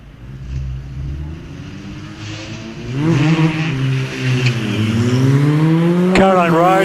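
A hillclimb race car, number 816, launches off the line and accelerates hard through its gears, engine note rising and revving loudly close by, with a brief tyre squeal near the end, at Prescott during the British Championship.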